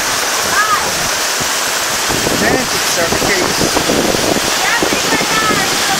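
Floodwater surges into a house yard in Itaquiraí, a loud, steady roar of rushing water filling the scene while a person speaks over it in alarm.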